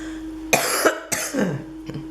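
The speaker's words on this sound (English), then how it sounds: "And I'm going to cough again." Two short, sharp coughs close by, separated by a brief pause, followed by a faint trailing breath.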